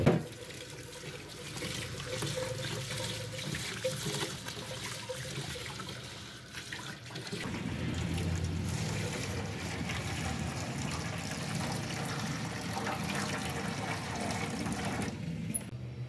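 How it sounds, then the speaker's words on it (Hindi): Water runs steadily into a cooking pot in a home kitchen while making beef yakhni pulao, a continuous close splashing flow lasting the whole stretch, with no talk. "अब मैं इसके अंदर डालती हूँ पानी।"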